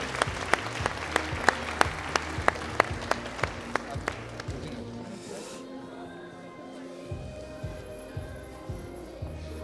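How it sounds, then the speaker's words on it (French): Audience applause at a 2016 New Year's awards ceremony as a student from the Léo Lagrange school is called up, with sharp individual claps over the crowd for about six seconds, then fading to a quieter murmur with scattered claps. "Et qu'on l'applaudisse bien fort."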